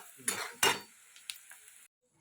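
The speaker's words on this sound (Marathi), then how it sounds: "आणि मस्त असं मी फोडणी दिलेले फरसाच्या भाजीला" Hot oil crackles and sizzles in short bursts as tempering is poured over cooked French beans, close by and fairly quiet, fading out into silence at the end.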